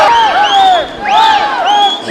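Spectators cheer and whoop at a Slovenian national swimming championship, a loud, continuous crowd roar with rising shouts that swell and ebb in waves through the whole stretch.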